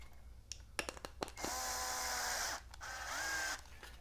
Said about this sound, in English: I'll drill a little bit through